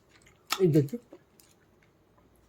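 Someone chews a mouthful of pakhala, fermented rice soaked in water, in a short close, wet burst of munching that fades quickly into a quiet room.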